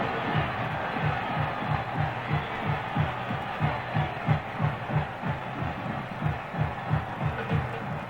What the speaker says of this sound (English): Doesn't that crowd roar?